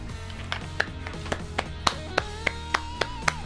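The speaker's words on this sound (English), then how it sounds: "slow claps" Slow, spaced claps for a successful Minecraft Bedrock slime farm, about ten sharp claps at a steady unhurried pace over a background of game music.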